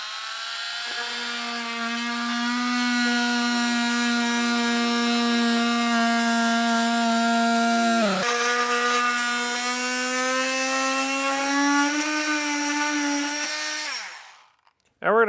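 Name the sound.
multi-tool cutting straight lines in skid plate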